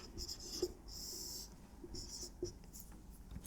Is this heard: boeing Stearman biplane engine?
no